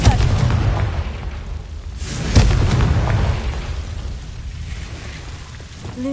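Confringo fire spell blast in a video game, a deep booming burst with a sharp crack midway, followed by a rumbling low decay over a steady background.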